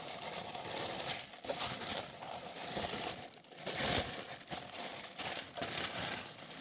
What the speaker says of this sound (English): let's unwrap this one now